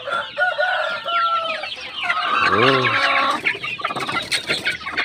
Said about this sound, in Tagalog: Ito na po sila mga kapanok. Aligago na po sila. Gutom na.